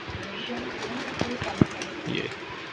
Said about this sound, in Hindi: ये आ रहा है कबूतर